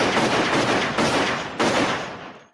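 Bursts of full-automatic movie gunfire in a TV-show style, loud and dense, rattling continuously with two short breaks before cutting off, no talking.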